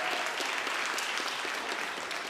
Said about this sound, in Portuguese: Você pode dar mais um aplauso igual esse para o Senhor?